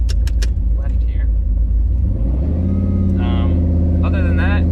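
A 1991 Turbo Silverado truck rumbles steadily while driving, its engine drone low and continuous as it pulls along, with someone talking over it throughout.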